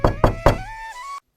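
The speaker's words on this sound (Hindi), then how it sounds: "घर का दरवाजा बजाने लगते हैं।" Three quick, loud knocks strike a house door in a village, followed by a sustained tonal ring that fades out after about a second.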